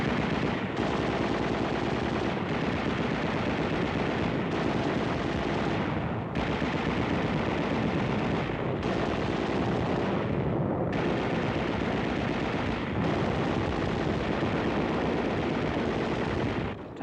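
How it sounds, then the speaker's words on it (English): Heavy automatic machine gun fire rattles during a wartime battle around Naha. It is a dense, loud, continuous barrage broken by a few brief pauses, with no voices. "Heavy automatic fire brings down the fleeing Japs."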